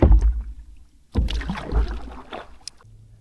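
Kayak paddle strokes splashing and dripping while paddling through flooded woods on the Withlacoochee River, a couple of close, uneven water swishes with brief pauses between them and no talk.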